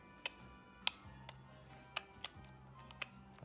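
An N64 controller joystick clicks in sharp, irregular ticks, about eight in a few seconds, close and clear over a quiet low hum.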